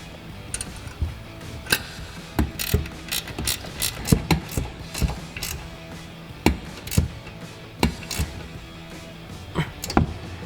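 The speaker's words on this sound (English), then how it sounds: "ratchet wrench to tighten down our two nuts." A ratchet wrench tightening two nuts on a leveling kit bracket of a 2020-2026 Chevrolet Silverado 2500, sharp bursts of clicking in irregular runs over quiet garage background, with no speech.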